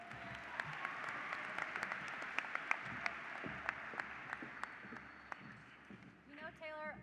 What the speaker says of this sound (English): Let's give our Major State Officer candidates one more round of applause.